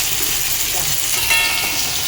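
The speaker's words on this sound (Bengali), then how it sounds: "আর এখানে মাছ ভাজা হচ্ছে" Continuous sizzling of fish frying in hot oil, close and steady, with no speech.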